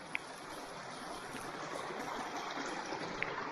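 A forest creek flows in a steady, even wash, heard close by and alone, with no break in its continuous rushing.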